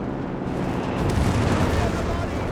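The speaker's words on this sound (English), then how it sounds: "A lot of artillery racing down here." Artillery fire in the Company of Heroes 3 strategy game: a continuous rumbling barrage of booms and blasts, thick and heavy, with no clear gaps between impacts.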